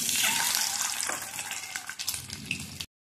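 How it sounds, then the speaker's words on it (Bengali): Halved boiled eggs frying in oil in a pan, a steady close sizzle that crackles and pops in irregular bursts before cutting off abruptly near the end, with no one talking. "সেদ্ধ করে গাটা চিড়ে আমি একটুখানি ভেজে নিচ্ছি"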